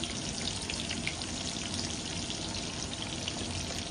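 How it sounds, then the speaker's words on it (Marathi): Bitter gourd fritters frying steadily in hot oil, a dense, continuous close sizzle and crackle with no pauses and no voices. "आता हे असे कारले तेलामध्ये, पाहायचे तेलामध्ये असे आपल्याला हे फ्राय करून घ्यायचे"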